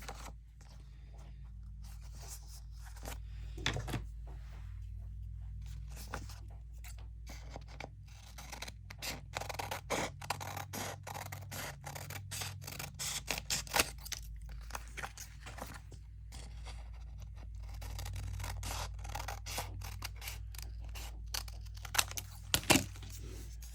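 Scissors trim paper for pocket gussets with repeated close snips and crisp paper rustling at a soft, steady level, with no talk.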